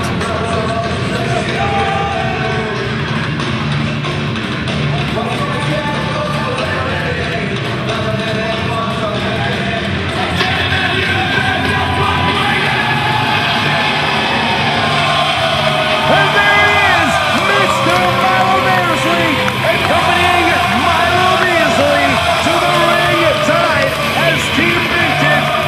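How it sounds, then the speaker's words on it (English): A packed wrestling crowd at a Vintage All-Star Wrestling show in Sanford, Florida roars with sustained cheering, whoops and yells, loud and dense throughout, swelling further in the second half. "listen to this crowd erupt"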